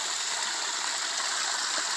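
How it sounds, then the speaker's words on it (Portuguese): Water gushes from a full pipe at a dam, a steady loud rushing roar with no break and no voices. "Olha a água que tá saindo aqui, ó. É que o cano não dá conta."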